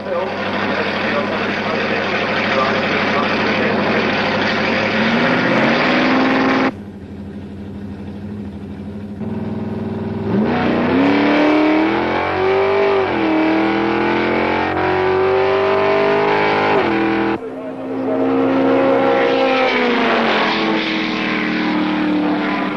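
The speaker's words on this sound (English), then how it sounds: "Sam gave our cameraman a taste of drag racing from the inside in his 12-second, 6-litre Chevrolet C-Modified." A 6-litre Chevrolet C-Modified drag car roars loudly from onboard during a 1978 run at Snetterton. The engine climbs through revving gear changes with brief dips between pulls, and a voice is heard over it.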